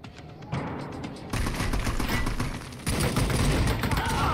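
Video game gunfire: bursts of rapid automatic shots that grow louder in stages, dense and close, layered over battle noise.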